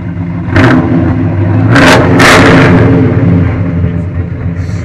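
A 1952 Chevy pickup with custom-made headers rumbles loudly and close, its engine revving in a few sharp blips over a deep idle, with people talking nearby.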